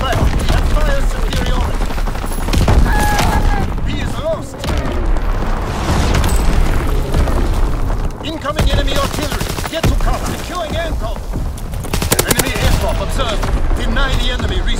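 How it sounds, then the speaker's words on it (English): Enemy mortar fire and gunfire in the video game Call of Duty: WWII make a loud, dense barrage of booming blasts and rattling shots, almost continuous, while in-game voices call out orders over the battle. "Enemy mortar fire incoming."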